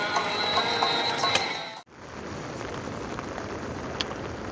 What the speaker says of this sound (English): so you can hear it's still raining